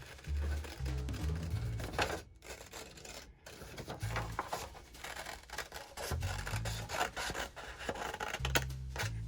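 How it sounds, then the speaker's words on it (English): Scissors snip and rasp through paper while cutting out a butterfly shape, a series of close crunchy cuts with soft dull thumps of handling between strokes, uneven in rhythm. "I like to cut a little bit outside of that line I traced."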